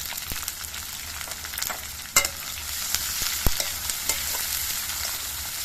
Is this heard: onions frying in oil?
yes